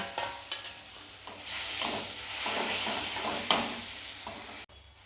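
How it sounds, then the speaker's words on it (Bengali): Spice paste with tomatoes and two whole green chillies sizzling and frying in a pan for crab bhuna, a steady close hiss broken by a few stirring scrapes, ending abruptly. "এটাকে ভালো করে আমি কষিয়ে নেব"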